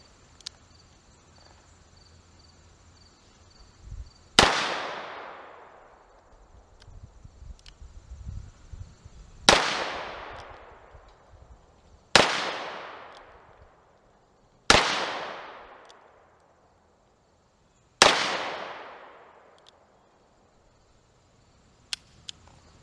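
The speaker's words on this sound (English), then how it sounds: "Got the Rossi 971 here. Once again, this is the ported gun." Rossi 971 ported revolver firing Fiocchi .357 Magnum rounds, five sharp, loud shots at irregular intervals a few seconds apart, each with a long decaying echo over quiet outdoor background.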